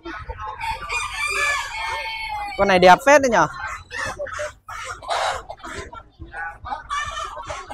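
A rooster at a pet market in Hai Phong, Vietnam crows once, loud and close, with people chatting in Vietnamese over the background of other caged chickens.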